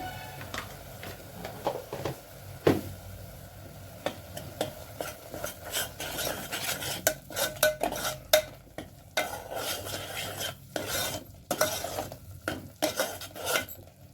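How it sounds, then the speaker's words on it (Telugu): Turmeric stirred in a pan over low heat for a ridge gourd curry makes a busy run of close spoon scrapes and clicks against metal above a soft, faint sizzle. "పసుపు కూడా పచ్చివాసన పోయేంత వరకు వేపుకోవాలి"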